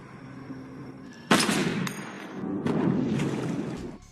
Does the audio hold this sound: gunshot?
yes